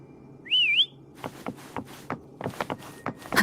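A single rising, wavering whistle in the video game Wuthering Waves, clear and fairly loud, followed by a string of soft footsteps crunching along at an uneven pace.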